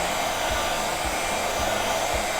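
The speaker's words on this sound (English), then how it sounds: "And Chandler Tool makes a great heat gun." A Chandler Tool heat gun runs steadily at close range, a loud continuous airy roar with a faint recurring low thump, no voices.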